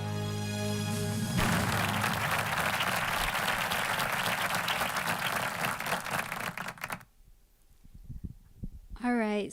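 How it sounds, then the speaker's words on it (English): Audience applause at an awards ceremony honoring heroes in San Diego, a dense, loud wash of clapping that sustains for several seconds and then cuts off abruptly, leaving a quiet room with faint sounds. "Let's give a big round of applause to these inspiring heroes from India."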